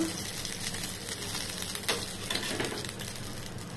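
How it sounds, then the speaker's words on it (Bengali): Pomfret fish fry in shallow oil with a steady, even sizzle and faint scattered crackles, close and continuous with no voices. "প্রত্যেকটা মাছই ভাজা হয়ে গেল"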